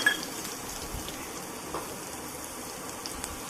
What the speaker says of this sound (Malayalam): കടുക് പൊട്ടി ഇതൊന്നിട്ട് ഫ്രൈ ചെയ്യാം